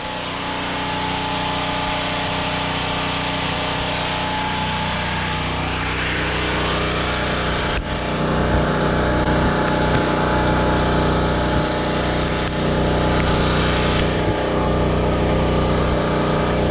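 A 3400-watt generator runs a Fronius TransSteel 2200 welder, its engine droning loud and steady at close range with a constant buzzing hum that never lets up.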